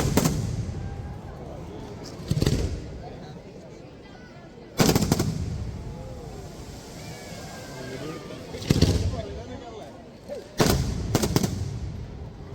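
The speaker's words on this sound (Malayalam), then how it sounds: "3 ഒരുമിച്ച് പൊന്തിയിട്ട് ഒരുമിച്ച് പൊട്ടുന്ന അമ്മുട്ടുകൾ." Firecrackers at a church feast, three rising together and bursting at once, heard as loud sharp blasts in clusters spaced a few seconds apart over outdoor crowd noise and faint talk.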